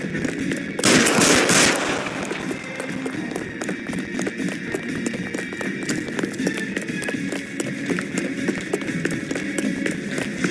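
Rapid bursts of gunfire in the LA Noire video game, a loud opening volley followed by a steady stream of sharp crackling shots mixed with game noise.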